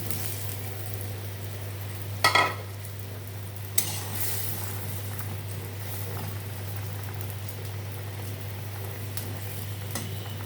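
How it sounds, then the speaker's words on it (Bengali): Fried rohu fish eggs go into a boiling curry, giving a steady bubbling simmer with two sharp clatters of the eggs and utensil, and a constant low hum beneath. "এখন এই যে ভাজা ডিমগুলো দিয়ে দিব"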